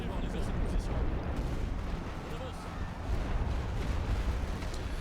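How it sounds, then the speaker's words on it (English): Artillery shells land in the WWI game The Great War on the Western Front, a continuous dense rumble of distant bombardment with overlapping booms and no clear break across the whole stretch. "Hoping I can get good timing with my artillery there."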